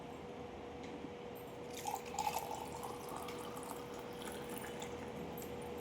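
Hot water trickles and splashes into a cup holding a spoonful of lemon-flavoured enhancer drink powder, a faint, close liquid pouring sound that swells briefly near the middle over a quiet hum.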